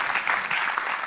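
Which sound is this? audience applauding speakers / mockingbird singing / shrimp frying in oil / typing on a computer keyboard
audience applauding speakers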